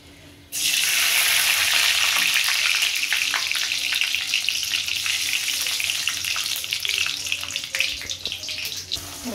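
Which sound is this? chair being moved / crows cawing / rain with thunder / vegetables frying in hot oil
vegetables frying in hot oil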